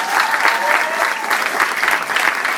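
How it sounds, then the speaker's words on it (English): Sustained applause from a crowd, loud and steady throughout, with no talking over it. "Let's give him a round of applause, by the way."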